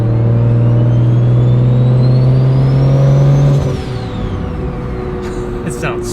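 A BMW N54 engine fitted with a single-turbo kit holds a steady partial-throttle drone around 3,000 rpm, then the revs drop off and settle into a lower rumble, with a rising turbo whine above the engine.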